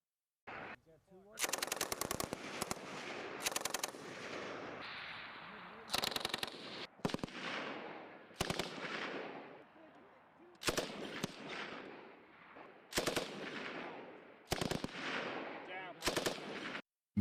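An FN MAG general purpose machine gun, the M240 Bravo, fires repeated loud bursts of rapid automatic shots separated by short pauses, with sharp crack onsets throughout.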